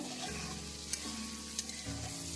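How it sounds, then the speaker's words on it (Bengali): Thinly sliced potatoes are sautéed over a high flame in a pan, making a continuous close sizzle with a spatula scraping and stirring them, plus a couple of sharp clinks against the pan. "এক মিনিটের জন্য আলু আমি ভালো করে কষিয়ে নেব"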